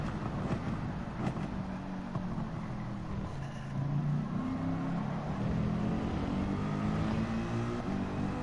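A race car engine in Gran Turismo 7 drones and revs through the gears toward 7,000 to 8,000 RPM, a continuous rising and falling engine note with no voices over it.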